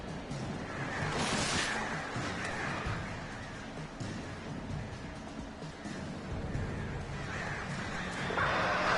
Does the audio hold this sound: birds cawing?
yes